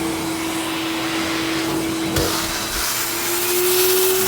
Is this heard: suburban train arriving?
no